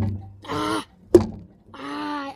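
Knuckle duster punched into a pumpkin, a single sharp thunk in the middle, framed by voiced groans and moans before and after.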